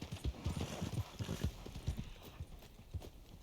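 Horse hooves clip-clop steadily in the Red Dead video game, a quick even rhythm of hoofbeats that are fairly faint and close, with no talk over them.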